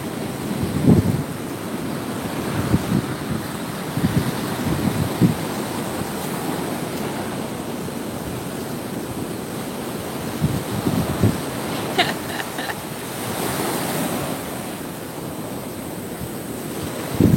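Ocean surf breaking at the shore with gusty wind buffeting the microphone, a loud continuous wash with occasional surges and no talking.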